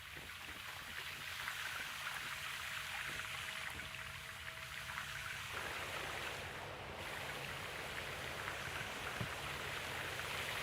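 Steady broadband rush of flowing water in Gold Mining Simulator, a continuous wash that holds level throughout with a faint tonal hum in the first half.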